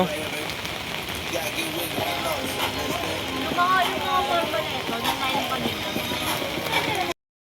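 Rain falls steadily, a continuous hissing patter on surfaces throughout, with faint background activity and no clear speech.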